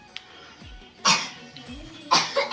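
A pet dog named Dugu coughs in two sharp, hoarse bursts close to the microphone, each followed by a short rasp, with quiet room sounds between them.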